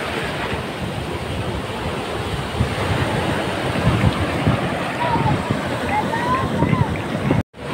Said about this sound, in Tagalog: Oh, tara, malaking alon.